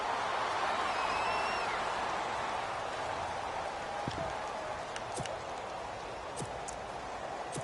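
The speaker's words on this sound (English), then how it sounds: "we got rain throughout the entire game" Steady hiss of rain falling throughout a match in a PS4 video game, a constant wash with scattered faint ticks and knocks, no voices.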